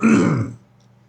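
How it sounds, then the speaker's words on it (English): A single rough throat clearing, close and fairly loud, lasting about half a second before fading into quiet room noise. "I apologize for clearing my throat all the time."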